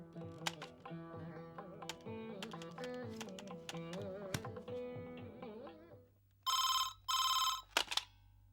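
A telephone rings in two long, bright trills followed by a short third burst in a Tamil TV serial scene, coming right after background music fades out.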